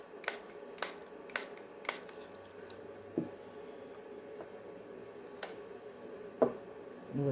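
A spray bottle mists alcohol onto a wooden bowl in a quiet room, giving several short, sharp spritzes spaced about half a second to a second apart.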